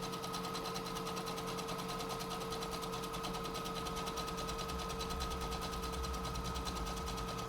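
A sewing machine runs continuously, stitching a closed seam on a three-layer cloth face mask, with a steady rapid mechanical whir and hum at close range and no pauses.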